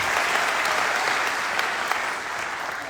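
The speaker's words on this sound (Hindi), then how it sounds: "जोरदार ताली अनिकेत के लिए होनी चाहिए यार" Loud, dense audience applause at a live youth success event, sustained clapping close and steady for the whole stretch with no voices over it.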